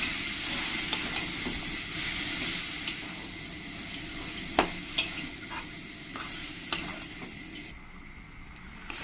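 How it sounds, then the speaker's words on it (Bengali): A spatula stirring coconut, jaggery and semolina filling in a hot pan, a continuous soft scraping and gentle sizzle with occasional light taps against the pan. "নারকেল আর গুড়ের সঙ্গে সুজির সঙ্গে ভালো করে মিশিয়ে নিতে হবে"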